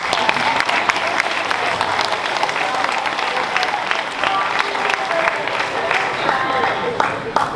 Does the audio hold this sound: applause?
yes